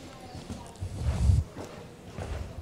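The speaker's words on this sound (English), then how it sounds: "Nice big ground covering extended canter" Horse hooves canter across a dressage arena during an extended canter in an FEI Grand Prix test, with a burst of heavier low thuds near the middle over a steady background murmur; a commentator talks over it.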